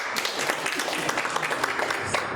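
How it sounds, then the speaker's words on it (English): Round of applause from an audience at a public launch event in Sierra Leone, a short burst of close, brisk clapping at steady loudness. "A round of applause for him once again."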